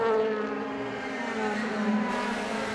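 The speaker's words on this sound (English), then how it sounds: "Great to hear that engine being worked in that BMW" A BMW DTM race car engine on board at Hockenheim, working hard with a loud, continuous high-revving drone and a small pitch shift, heard close from inside the car with no talk.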